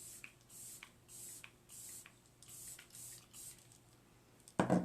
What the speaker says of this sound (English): So take your setting spray again.